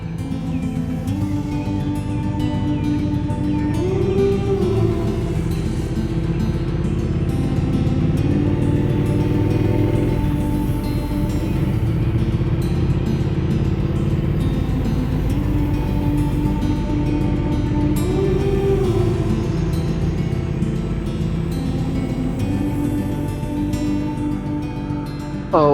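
A motorcycle rides along winding Utah mountain roads, its engine drone steady and loud under strong wind rush, with rising and falling pitch as it shifts through the curves.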